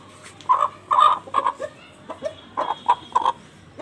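Asil chicken clucking in a run of short, sharp, close calls, grouped in quick bursts with brief pauses between them.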